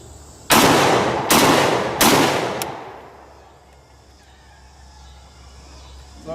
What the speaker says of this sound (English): Live fire with the AR-12.